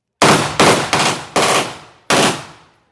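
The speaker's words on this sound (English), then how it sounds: "Shotgun." Five loud, close shotgun blasts at an outdoor shooting range, fired at uneven intervals, each a sharp crack with a short decaying tail, and no talking.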